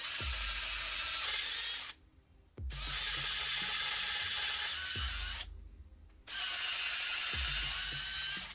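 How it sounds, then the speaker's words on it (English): A power drill bores into a Tusken Raider mask face plate in three long sustained bursts with two brief pauses, loud and close, each burst ending with a low thump. "Just going to drill."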